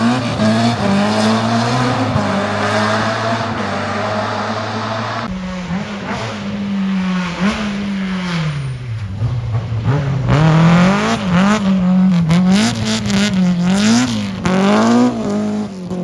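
A Toyota Celica ST185 rally car being driven fast on a test run, its engine loud and close, revving and dropping through gear changes with a steady roar and a sharp rise in pitch partway through.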